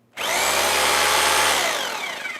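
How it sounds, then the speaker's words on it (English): A JCB 1050W rotary hammer drill with a masonry bit, in hammer drill mode, runs at full speed with a loud, steady close whine that starts abruptly and holds for about two seconds before easing slightly. "I've plugged it into our 13 amp outlet, and there we are, we're in hammer drill mode."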